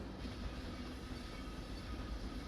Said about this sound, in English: Arco would rather listen to the train than me.